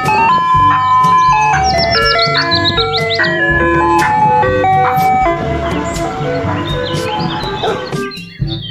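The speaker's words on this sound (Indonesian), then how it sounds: "Yang ini ada mobil es krim." A toy ice cream truck plays a bright, tinkly jingle loudly and continuously, its electronic melody bouncing along with chirpy high notes.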